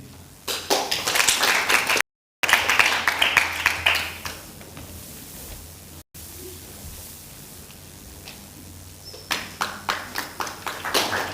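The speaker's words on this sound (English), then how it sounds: "Let us clap for her." At a summer school closing ceremony on optics and lasers, an audience gives short rounds of applause, with crisp claps near the start and again toward the end and quieter stretches between.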